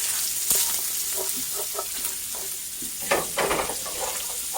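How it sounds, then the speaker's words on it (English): Sausage browning in a frying pan for biscuits and gravy, a steady close sizzle and crackle with scattered pops and a few louder bursts of spatter, no voices. "this is what my sausage is looking like. It's starting to brown really well"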